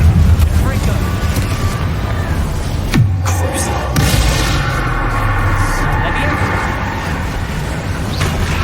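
A Confringo explosion spell from Hogwarts Legacy lands as a loud, sudden blast with a deep boom, followed by a rumbling, crackling tail amid ongoing combat noise.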